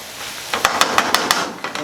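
Mushrooms cooking down in a pan for a pork chop dish, giving a soft steady sizzle with a series of sharper crackles and stirring scrapes at a close, moderate level.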